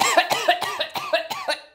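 A woman lets out a rapid run of about seven harsh, close coughs in quick succession.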